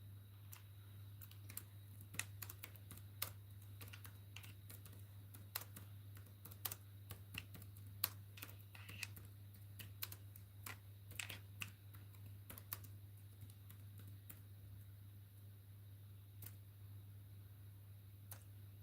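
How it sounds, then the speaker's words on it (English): Fast, irregular clicking of computer keyboard keys, close and fairly faint, with a steady low electrical hum underneath and no talking. "okay, let me type that."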